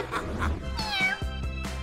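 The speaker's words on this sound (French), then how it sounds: "D'où vient ce chat errant?" A stray cat meows several times in quick succession, drawn-out, plaintive calls that are close and clear, with no one talking over them.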